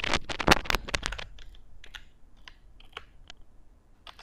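Fingers type on a computer keyboard in a quick burst of close, crisp key clicks, slowing to scattered single taps.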